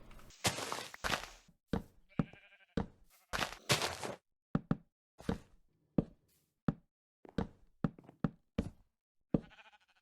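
Minecraft sheep bleating repeatedly near a village pen, a string of short, loud bleats with knocks and footsteps between them and no talking.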